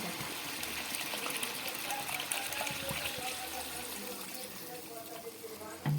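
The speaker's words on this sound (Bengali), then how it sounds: "দিলাম জল, আরেকটু জল দেবো" Water poured into a pan of potol and potato curry, a steady gushing splash running throughout, close and moderately loud, with a voice speaking over it.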